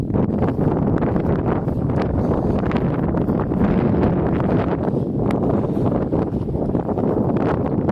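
Wind gusting across a small mountain tarn in the fells, buffeting the microphone with a loud, continuous rushing roar and rough low-frequency thumps, steady from start to finish with no speech.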